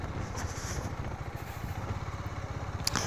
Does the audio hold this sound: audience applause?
no